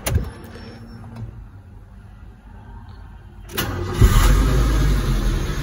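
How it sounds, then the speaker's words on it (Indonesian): A 2007 Nissan Sunny Neo GL engine cranks and catches, rising from a quiet interior into a steady, close idle that fills the last couple of seconds. "Kita nyalakan mesinnya."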